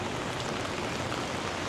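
Steady rain pours down on a downtown Toronto street during a heavy downpour, a dense continuous hiss of drops hitting pavement and surfaces, loud and even throughout with no voices.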